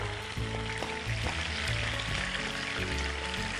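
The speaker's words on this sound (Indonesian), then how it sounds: "Hati-hati minyaknya meledak-ledak, jaga jarak." Mackerel fish frying in hot oil gives a dense, steady sizzle with irregular pops and spatters, close and continuous with no voices.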